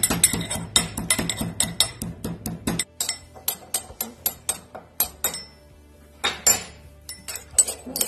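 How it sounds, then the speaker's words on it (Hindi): Spices are pounded in a mortar for Rajasthani pitod sabzi, sharp rhythmic knocks in quick repeated strokes, close and loud, with a pause and uneven clinking hits later, no voices. "मसाले हमारे अच्छे से कूट चुके हैं"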